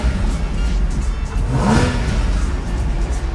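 A Porsche sports car engine revs up sharply once, rising and falling over a constant low rumble, close and loud with no talking.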